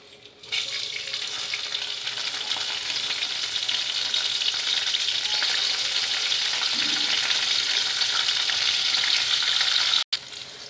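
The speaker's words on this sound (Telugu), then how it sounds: "పోపు ఫ్రై అవుతుందండి కొంచెం బ్రౌన్ కలర్ వచ్చేలాగా మనం ఫ్రై చేసుకుందాం" Tempering spices frying in hot oil give a steady, loud, close sizzle that carries on without a break for about ten seconds, then cuts off suddenly at the end. No one speaks.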